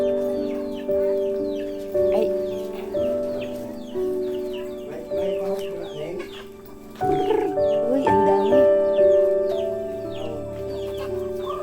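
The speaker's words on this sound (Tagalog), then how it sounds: "Ito sa mga manok." Native chickens on a rural farm cluck and murmur repeatedly in a steady stream, fairly close, with a low hum underneath and a few louder squawks near the end.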